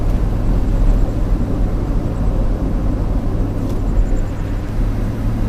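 A crawler hauler truck cruises on a test drive after a rear axle rebuild and fresh gear oil, its engine and drivetrain holding a constant loud, low rumble at about 1,200 to 1,300 RPM, with no talk.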